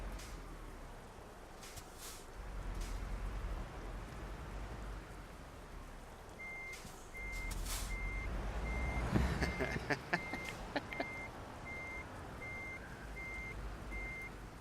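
Steady truck reversing beeps in a European trucking simulator game, repeating at an even pace over a low engine rumble and rain-like hiss, with a few sharp clicks and a brief air-brake hiss partway through.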